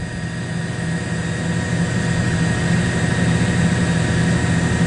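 A helicopter engine runs steadily at close range with a low, droning whine that holds level and slightly builds, with no talk over it.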